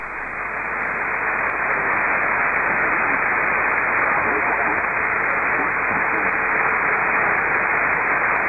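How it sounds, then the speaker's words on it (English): Steady broadband hiss and hum on an amateur shortwave radio frequency while another station tunes up, filling the band continuously and loudly with no speech. "that hum is someone tuning up"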